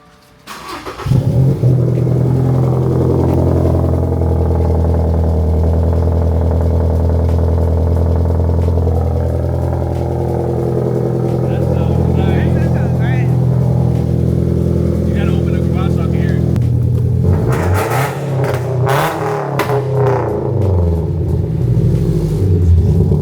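A car fitted with a JDL front pipe exhaust rumbles loudly and close up, holding a deep steady idle drone for about fifteen seconds before revving in several sharp bursts near the end.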